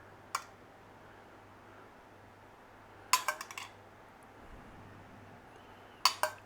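A teaspoon spooning liquid into fairy cake cases for black forest fairy cakes, with three small sharp clinks of metal against the cases spaced a few seconds apart, close up, over a quiet low hum.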